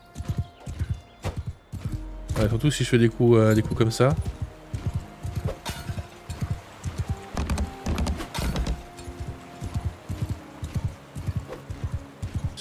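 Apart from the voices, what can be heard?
horse hooves in a video game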